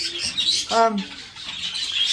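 Budgies, all cock birds, chirp and chatter in an aviary flight, with one sharp nearby squawk standing out above softer, scattered twittering.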